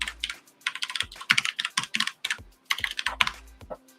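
Fast, uneven typing on a computer keyboard, with dense bursts of close, crisp keystrokes separated by short pauses.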